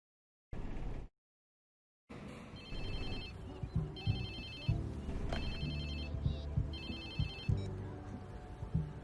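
A mobile phone rings inside the video game Watch Dogs 2, a repeating electronic ringtone that starts after a short burst and a pause, loud and steady, with game sounds and party noise underneath.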